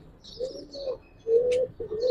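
An old-breed pigeon with dark jamun-coloured feet, likely a giribaz, coos in several short, throaty phrases with brief gaps between them, close by and fairly soft, with no talking.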